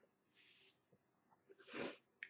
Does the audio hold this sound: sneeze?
yes